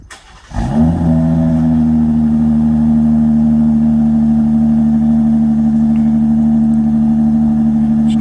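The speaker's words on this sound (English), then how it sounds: "I'm gonna do a cold start" A Jeep Grand Cherokee Limited V6 cold-starting in winter at around twenty degrees: a short crank, then the engine catches and settles into a loud, steady, close idle that drones on alone.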